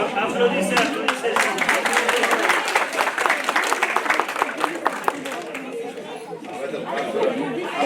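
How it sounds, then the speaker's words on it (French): An audience applauds at a certificate ceremony for an Aramaic language course, a crowded, lively patter of clapping mixed with overlapping chatter and voices throughout. "Applaudissez, applaudissez."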